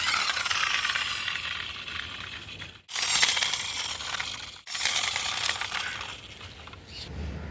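A diecast Land Rover Defender scale model car rolls across a hard surface, giving a steady close rattling whir in three runs separated by two brief silent gaps.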